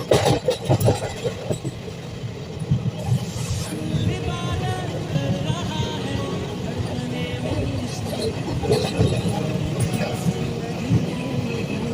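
A passenger train running from Kolkata to Purulia rumbles loudly and steadily, with wheel clatter and carriage rattle throughout and voices faintly audible in the cabin.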